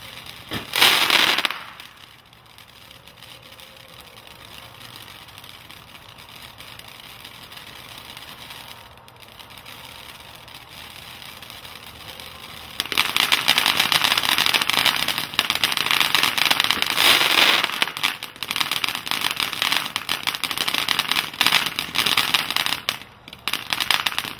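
Firework fountain of colored stars, crackling and bouquets, one-minute ground cone: a loud hiss bursts briefly at the start, then a quieter steady rush, before a dense, loud crackling spray fills the second half outdoors.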